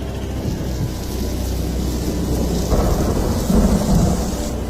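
Heavy rain pours steadily while deep thunder rumbles and rolls, swelling louder toward the end.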